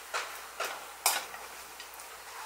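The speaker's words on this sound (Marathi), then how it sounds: "थोडेसे परतून घेणार आहे तुपावर" Raw peanuts frying and being stirred in ghee in a pan, with three or four distinct scraping stirs at a steady pace over a soft, constant sizzle, close and fairly quiet.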